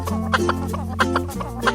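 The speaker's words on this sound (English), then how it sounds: "Chicken." Chicken clucking in an animal rescue escape room challenge: a string of short, rhythmic clucks over a steady background hum and music, fairly close.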